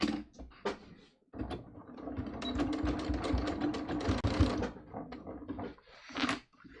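Sewing machine stitching the back pockets of a garment, a close steady mechanical whirring rattle that starts after a pause, runs for about five seconds with slight speed changes, then stops briefly and restarts.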